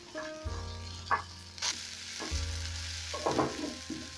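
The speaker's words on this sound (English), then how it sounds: "I'm going to saute this till they turn translucent" Onions sautéing in a pan for a coconut-sauce fish dish, a steady close sizzle with a few sharper clinks and stirring scrapes, no voices.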